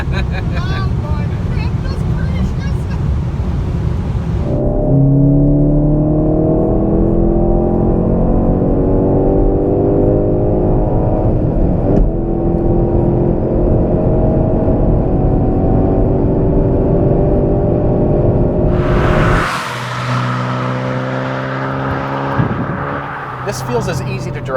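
Skoda Octavia RS 230 being driven, engine revving and shifting through gears with rising and falling tones, loud and close, with wind noise, and people speaking in the car.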